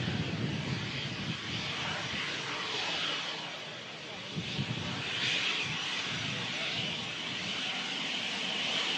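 An Air France jet taxis across the active runway at Manchester Airport after landing, its engines giving a steady, broad roar at moderate distance.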